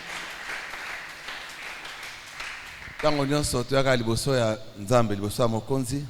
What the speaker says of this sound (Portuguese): Aplauda para o Senhor Jesus